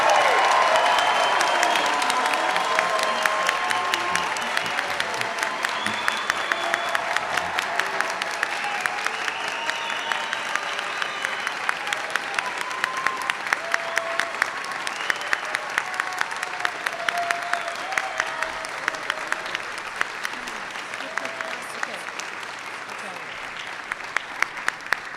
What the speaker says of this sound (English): join me in a final round of applause for today's graduates, the NUNM class of